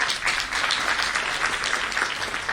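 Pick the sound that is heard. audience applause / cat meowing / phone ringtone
audience applause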